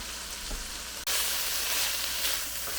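Meat sizzles loudly in a hot pan with sugar, fish sauce and pepper for pad kra pao, a steady close crackling hiss that jumps sharply louder midway and keeps frying without talk.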